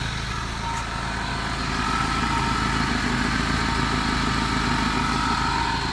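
A Mercedes M111 car engine with a blown head gasket and a knock, running just after being started: a loud, continuous, close idle rumble with an even pulsing beat and no talk.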